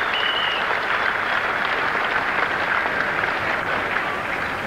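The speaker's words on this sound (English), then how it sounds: "that is a landmark that should be applauded by everyone at the ground" A cricket ground crowd applauds steadily and loudly as Habibul Bashar reaches his fifty in the first Test between Australia and Bangladesh in 2003, the clapping a continuous even wash throughout.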